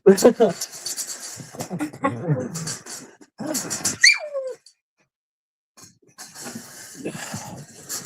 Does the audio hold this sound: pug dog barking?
yes